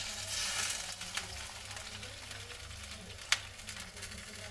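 Potato and eggplant sizzle in a pan as a stir-fry cooks, a steady close frying hiss with a few light clinks of a utensil against the pan.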